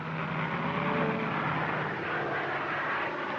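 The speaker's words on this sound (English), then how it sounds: "That airplane noise might stampede them." A 1930s airplane engine drones steadily overhead above open cattle country, a loud, continuous, rough mechanical roar holding even for a few seconds with no talking.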